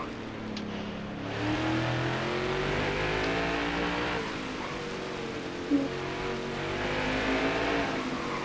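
A race car engine in a racing video game on the Charlotte Roval revs and pulls through gears in a sustained, close drone with pitch sweeps and a brief squeal, no talk.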